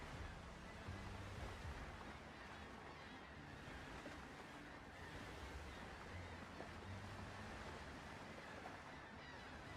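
Ocean waves roll and wash continuously in the pirate sailing game Windrose, a steady broadband surf with wind, heard at sea in calm conditions with no talk over it.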